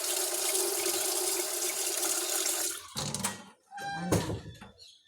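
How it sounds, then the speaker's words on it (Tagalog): Tap water runs steadily into a container, a loud continuous gushing stream that stops abruptly, followed by a few sloshing splashes and clinks from handling the filled vessel, with no talking. "Punan na lang ako og tubig gamay."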